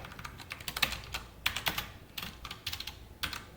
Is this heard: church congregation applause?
no